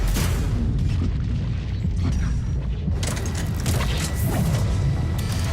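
Missiles launching and exploding in Mass Effect 3 combat, heavy booming blasts and rumbling impacts in a loud, continuous barrage with no pause between hits.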